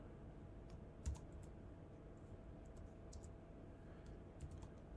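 Quick, soft keystrokes on a computer keyboard while C# code is entered in Unity, an irregular patter of light clicks close by and fairly faint, with no talking over them.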